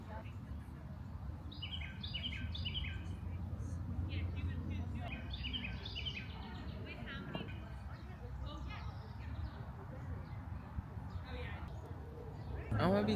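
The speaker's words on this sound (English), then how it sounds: "You hear those birds are chirping." Birds chirp and tweet in short, repeated bursts across an outdoor natural setting, moderately near but fairly soft over a low background murmur.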